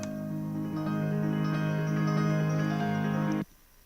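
A piano plays a motive from Chopin's Etude Op. 25 No. 1, a sustained flowing passage of repeated pitches with rich harmonics, heard alone and cut off abruptly near the end.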